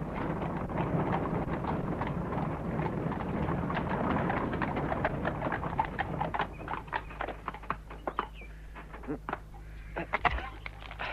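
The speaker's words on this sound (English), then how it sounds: "One of the horses looks lame." Horse hooves clip-clop in a radio drama sound effect, a dense run of steady hoofbeats that thins into slower, scattered clops near the end, with faint birdsong and wind behind.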